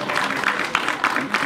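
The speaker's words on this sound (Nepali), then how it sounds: "जोरदार ताली" Loud applause from an audience at a Nepali movie event, a brief burst of dense clapping with some voices mixed in.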